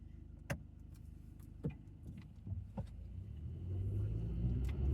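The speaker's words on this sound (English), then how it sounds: "There's a lot of traffic for a Sunday morning." Sunday-morning road traffic heard from inside a car: a low rumble of engines and tyres that grows steadily louder toward the end, with a few sharp clicks and thumps early on.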